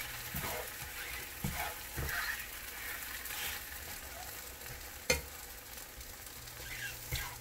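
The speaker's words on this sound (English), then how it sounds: "It looks nice and a golden brown color, and I'm gonna flip it." A crepe sizzling steadily in a frying pan after being flipped, a soft continuous hiss with a few light clicks and scrapes, fairly quiet and close, without talk.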